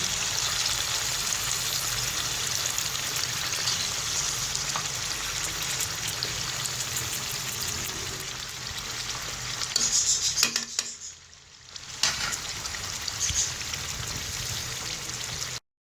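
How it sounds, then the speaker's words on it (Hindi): Chicken pieces sizzle in a pan for an Afghani chicken dish, a steady close-up crackle joined by occasional utensil clinks near the end and a brief dip before the sizzle returns, with no talking. "सारे पीसेस हम इसके अंदर ऐड कर देंगे और एक साइड से इसे फ्राई होने के लिए छोड़ देंगे"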